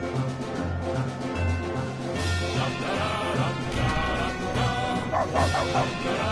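A person imitates a dog with voiced barks and yips while playing The Stanley Parable Ultra Deluxe, repeated bursts over busy game music and effects at steady loudness, with a crash-like clatter near the end.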